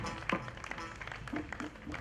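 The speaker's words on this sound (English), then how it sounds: "a big round of applause to our Freak Culture Troupe" An audience applauds the Freak Culture Troupe dance group at a World Culture Day 2022 celebration, a dense, steady wash of clapping with crowd noise and a few faint voices mixed in throughout.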